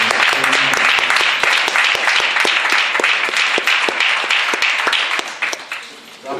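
A large church congregation applauds steadily with dense clapping and a few cheers, loud throughout and tapering slightly at the end.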